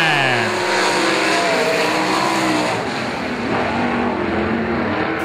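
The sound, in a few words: sprint cars racing at Golden Triangle Raceway Park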